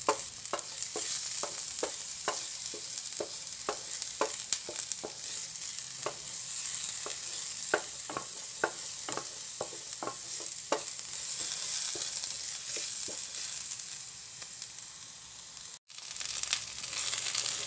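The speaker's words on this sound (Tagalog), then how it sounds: "Gigisa ko muna yung bawang at sibuyas." Garlic and onion sautéing in a pan for ginataang sitaw at kalabasa, a steady close sizzle with repeated clicks and scrapes of stirring throughout, no talk.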